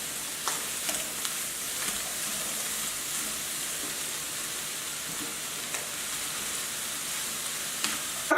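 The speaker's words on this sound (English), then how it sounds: "Now we're gonna go ahead and add in our cauliflower rice." Cauliflower rice sizzles in hot oil in a pan, a continuous close hiss with small crackles and occasional stirring clatters, moderately loud and unbroken for the whole stretch.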